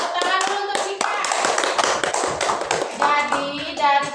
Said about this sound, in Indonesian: tepuk tangan dulu untuk Cika.